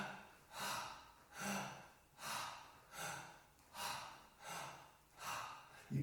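Slow, deep breaths during a posture and diaphragm breathing exercise, heard up close as about six even, rhythmic in-and-out cycles with soft airy rushes and no speech.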